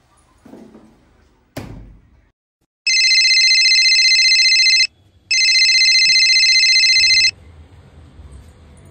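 A phone ringtone sounds in two loud electronic bursts about two seconds each, after a door thump; faint room noise continues afterward.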